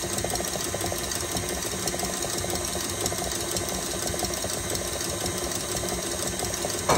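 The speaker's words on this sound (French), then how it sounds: "On va continuer à battre quelques minutes avant de rajouter nos fruits secs." An electric mixer beats Italian meringue for nougat with a continuous, even mechanical whir and rattle, steady in level throughout.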